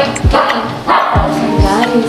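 Several sharp dog barks ring out in quick bursts, close by, mixed with overlapping voices and background chatter.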